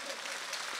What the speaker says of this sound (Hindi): जोरदार से तालियां